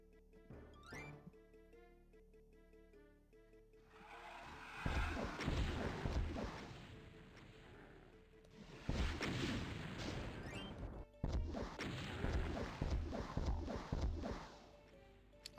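Rocket blasts in the classic Doom video game, three loud roaring bursts of explosive noise spaced several seconds apart, each rumbling and crackling before fading, over a quieter backdrop of game music.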